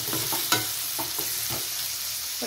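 Tomatoes sautéing with a little salt in a pan for a chicken curry: a steady, close sizzle with rhythmic stirring scrapes about every half second, and no voices.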